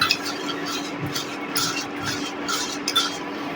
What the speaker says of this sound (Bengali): পেঁয়াজটা ভালো করে মাখিয়ে নেব।